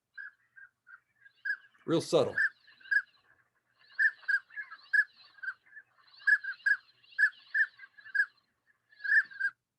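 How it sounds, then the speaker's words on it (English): Male northern pintail ducks give soft, repeated whistling calls in a rhythmic series of short clear notes, with a brief burst of human speech partway through. "here's the beautiful whistling sound that the male pintail makes."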